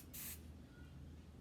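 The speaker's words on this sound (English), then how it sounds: "It's in a spray can" A single short hiss of hair spray released from an aerosol spray can, quiet and close, about a quarter second long against a faint background hum.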